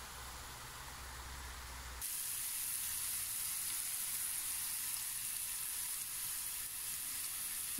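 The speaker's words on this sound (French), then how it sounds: "on fait revenir les champignons dans le beurre" Mushrooms frying in butter give a steady, soft sizzle that jumps up in intensity after about two seconds and then holds even and close throughout.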